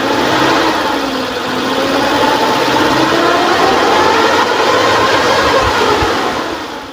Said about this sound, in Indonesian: Kita coba naikkan RPM-nya.